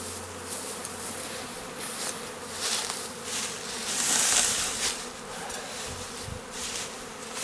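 A swarm of honey bees buzzing around a hive at a hiving trap, a dense, steady hum of many wings close by, swelling and easing slightly with no voices.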